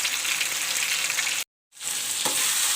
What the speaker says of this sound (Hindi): लहसुन को भी हम इसमें फ्राई करेंगे